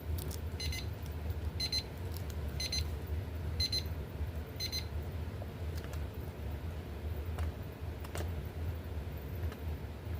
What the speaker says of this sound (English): I believe the timer just went off.